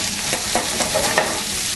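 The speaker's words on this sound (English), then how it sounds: "Let's go and put some of these peppers in, the Poblano peppers that we cut up. Throw them in there" Cut poblano peppers sizzling on a hot grill for tacos, a loud close crackle with bursts of spattering over a constant hiss, no voices.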